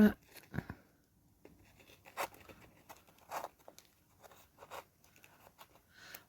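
Craft paper being trimmed with scissors while finishing a Valentine explosion box, a series of short separate snips and crisp paper rustles spaced across a quiet room, close and fairly soft.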